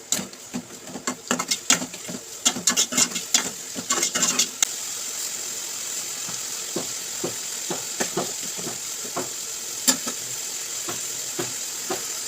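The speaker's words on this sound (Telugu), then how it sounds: "టమాటా వేసుకొని కొద్దిగా టేస్ట్కి సరిపడా సాల్ట్ కూడా యాడ్ చేసుకొని మూత పెట్టుకొని ఉల్లిపాయలను అయితే మగ్గనిద్దాం" Onions with tomato and salt sizzle in a pan for a soya and cluster beans curry: a steady close frying hiss with dense bursts of crackling pops, busiest early and then thinning to a calmer simmer.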